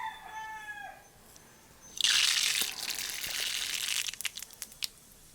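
Mustard seeds dropped into hot oil in a home kitchen pan burst into a sudden loud sizzle and crackle, continuing with scattered pops as they splutter.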